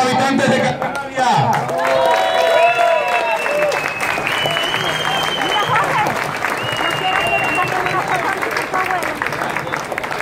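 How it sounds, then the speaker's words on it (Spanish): Crowd applauding at an outdoor rally in Tenerife, with dense, sustained clapping and cheering that stays loud for about ten seconds, and voices and whistles rising above the mass of hands. "Un aplauso para todos los habitantes de Candelaria."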